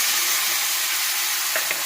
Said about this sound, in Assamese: বিলাহীখিনি ভাজি ল'ম